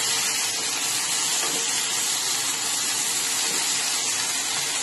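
Taro root curry with tomato fries in a pan, a loud, dense, unbroken sizzling hiss that holds steady from start to finish with no talking.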